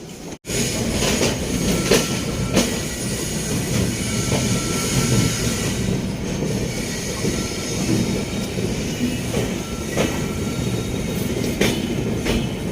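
Passenger train overtaking on an Amritsar to New Delhi Intercity Express journey, a steady loud rumble with rhythmic wheel clicks and occasional sharp knocks heard from aboard, continuous throughout.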